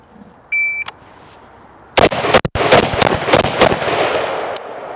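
Six loud, sharp gunshots ring out in quick succession during a live-fire handgun drill at a shooting range, after a short electronic timer beep, with echoing cracks close to the microphone.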